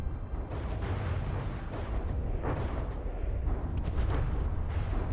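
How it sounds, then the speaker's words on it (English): Rumbling gunfire and explosions from a gun turret in the naval combat game From the Depths, a dense continuous barrage of low booms with scattered louder bursts, no talking. "Getting slow-mo because of explosions from that gun turret."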